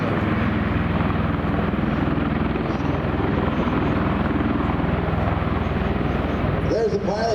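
An MV-22 Osprey tiltrotor flies in helicopter mode at an aerial display, its rotors producing a loud, continuous, thudding roar that stays strong and close throughout.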